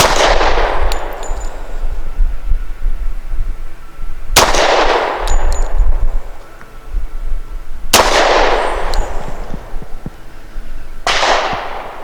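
Four loud, evenly spaced pistol shots from a Rock Island Ultra CCO firing AMSCS 230 grain full metal jacket rounds at a steel target from 7 yards; each sharp crack is followed by a metallic ring.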